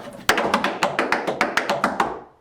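Crisp, loud tap dancing steps ring out on a resonant birch portable tap floor, a steady run of about a dozen sharp taps in quick succession.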